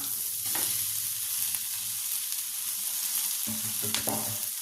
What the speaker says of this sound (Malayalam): അപ്പോൾ സവാള വഴണ്ടിട്ടുണ്ട് ഇനി നമുക്കതിലേക്ക് അവിലിട്ട് കൊടുക്കാം